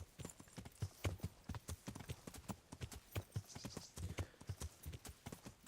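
Horse hooves clip-clop in a steady trotting rhythm throughout, close and clear, from a ridden horse in the medieval role-playing game Kingdom Come: Deliverance, with a faint voice briefly audible.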